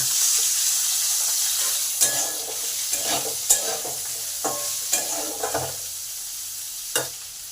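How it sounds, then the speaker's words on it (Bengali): Cumin, chili and potato pieces fry in oil in a pan, giving a steady sizzle punctuated by repeated spatula scrapes and knocks at irregular intervals, close and clear. "জিরে আর লঙ্কাটাকে ভালো করে এক মিনিট ভেজে নেব এবার আলুগুলোকে দিয়ে দিলাম"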